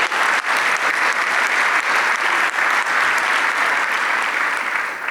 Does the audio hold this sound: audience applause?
yes